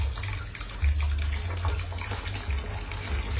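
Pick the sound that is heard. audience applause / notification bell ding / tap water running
tap water running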